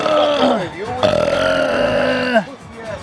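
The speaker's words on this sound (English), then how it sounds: "All I did was came and burp" Long, loud, deliberate burp let out in public, a sustained croaking belch lasting about two seconds, close and dominant before it trails off.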